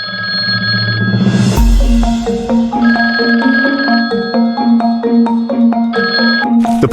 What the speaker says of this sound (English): Phones rang incessantly, their shrill cries echoing through the hallways.